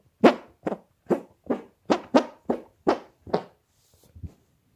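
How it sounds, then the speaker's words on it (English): Armpit farts, ten squelching pops in a steady rhythm, loud and close, the last one softer and lower after a short pause. "Now armpit farts."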